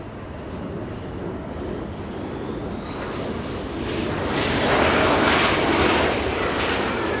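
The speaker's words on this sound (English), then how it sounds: "Little SkyWest flying in from Oakland, California" SkyWest jet airliner arriving from Oakland, California, its engine roar building steadily and peaking toward the end, with a thin rising whine above the broadband rush; loud and continuous, with no voices.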